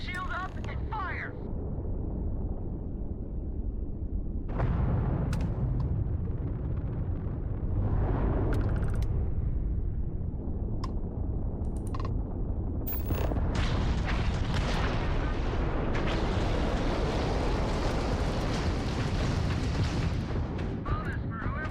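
Spaceship weapons firing in the video game Starfield, a dense run of booming blasts and crackling bursts that keeps up loudly through the whole stretch, with a voice talking over the combat.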